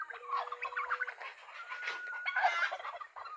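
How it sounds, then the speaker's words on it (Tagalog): Free-range fowl, turkeys among them, gobble and call in a quick, burbling run that is fairly faint and close by, with no talk over it. "Ito yung mga manok natin, mga kapatid, pagka ganitong kinainaman dito na malaya sila"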